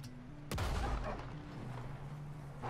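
A single heavy gunshot in the Western video game Red Dead Redemption 2 cracks out early and booms into a low rumbling tail, under a steady low game ambience; no speech.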